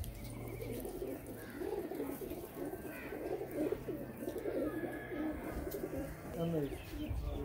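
Golden pigeons on a rooftop coo in soft, repeated low calls, with occasional chirps and a faint voice in the background.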